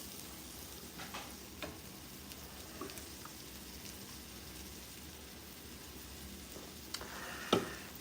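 Onions and green chilies frying in a pan, a steady close sizzle with soft crackles and a few light clicks of stirring throughout, no voices.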